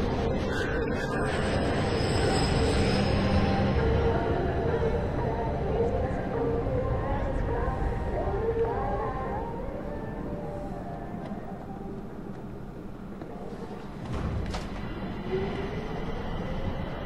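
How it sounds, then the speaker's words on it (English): A train rumbles through an underground tunnel in the video game The Darkness, a loud, sustained roar with squealing brakes and metallic screeches, while a voice talks over it. "This train has the best brakes I've ever seen."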